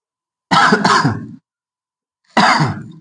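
A person coughs twice up close, a harsh double cough followed after a pause by another single cough, with silence around them.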